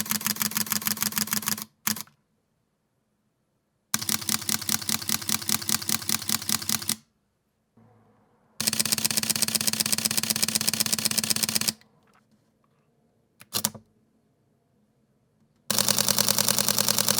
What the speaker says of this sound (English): you guys tell me which one of the cameras shutter sounds that you like the best